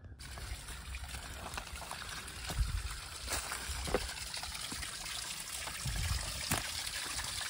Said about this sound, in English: My own little private waterfall.